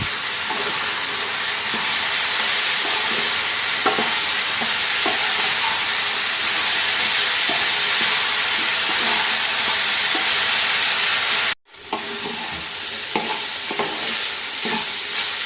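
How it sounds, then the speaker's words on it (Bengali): Drumstick flowers fry in a pan with very little oil, a steady loud sizzle running throughout with scraping stir strokes at intervals, a brief dropout near the end, close and unvoiced. "এবার আমি সজনে ফুলগুলোকে দিয়ে ভালোভাবে ভাজবো বেশ কিছুক্ষণ ধরে"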